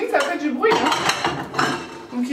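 Pots, plates and cutlery clank and rattle in a kitchen being cleaned and put away, a busy run of close, irregular clinks and knocks.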